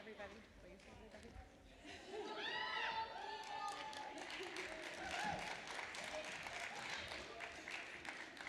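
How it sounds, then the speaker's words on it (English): An audience applauds a children's dance group at an MLK Day ceremony, steady clapping and some cheering from a crowd that swells and holds throughout, with voices mixed in. "Can we get another round of applause for the Woodfield dance performance?"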